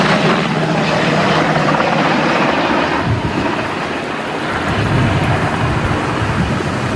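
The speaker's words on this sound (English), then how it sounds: "So we got 2 helicopters here right now." A firefighting helicopter flies over a wildfire scene to make a water drop, its loud, steady rotor roar filling the air continuously at close range with no talk.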